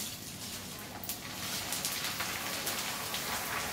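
Corn kernels dropped a little at a time into hot oil give a steady, dense crackling sizzle like heavy rain, close and continuous with no talking.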